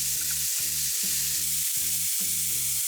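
Meat and vegetables sizzle loudly over high heat in a pan for a packed lunch, a constant close hiss broken by regular rhythmic stirring or tossing strokes, with no talk.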